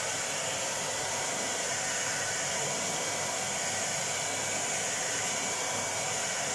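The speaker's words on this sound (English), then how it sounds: "Now we have to on the air dryer. You can milk all the ice from there." A hair dryer blows air into a fridge to melt the ice, a loud continuous steady whoosh with no breaks, close up and alone.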